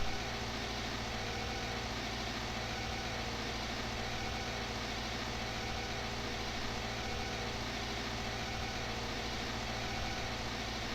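A small tractor in Farming Simulator 19 drives fast along a road, its engine a steady, continuous low drone with no talk over it.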